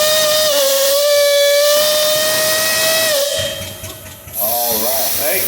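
An antique steam engine at a tractor and machinery parade sounds a long, loud, steady steam whistle that holds a strong tone for about three seconds, then sputters and fades into hissing steam.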